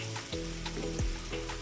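Onions frying lightly brown in a pan for potato samoosa, a soft continuous sizzle with faint scrapes and clicks, quiet and close, no talking.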